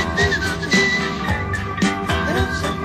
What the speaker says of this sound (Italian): e comincio a fischiare